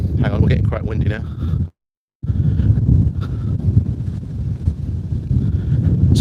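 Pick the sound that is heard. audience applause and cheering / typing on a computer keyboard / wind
wind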